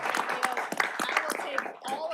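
Applause at a Redondo Beach city council meeting for a local team and its head coach, a brief burst of scattered hands clapping from a modest audience in the chamber.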